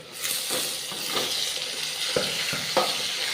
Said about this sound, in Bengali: এবারে আমি কাঁচা লঙ্কাটা ছেড়ে দেব